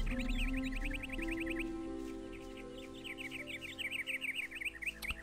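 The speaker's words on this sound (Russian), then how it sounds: "Блин, что птички эти поют?" Birds sing in the Gothic II video game, rapid repeated chirping phrases in two bursts over a layered ambient drone, with no voices.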